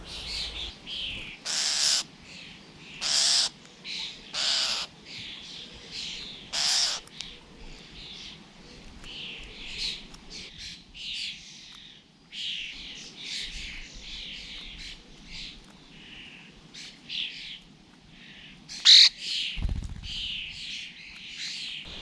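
Starlings and their chicks call in an English garden, with a busy stream of chirps, squawks and harsh begging cries, some sharp and loud, others softer and farther off, continuing without talk.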